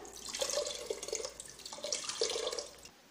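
Rinse water from a pan used for mashing dal is poured into a cooking pot, splashing and trickling in two close pours that end after about three seconds.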